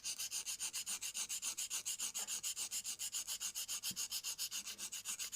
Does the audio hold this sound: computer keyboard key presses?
no